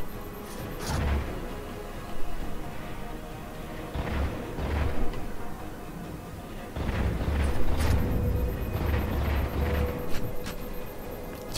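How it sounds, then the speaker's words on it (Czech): Gunfire and booming impacts in the Halo 4 video game, a steady barrage of shots and blasts over a dense, continuous battle din with no talking. "Celkem pěkně po mě střílí."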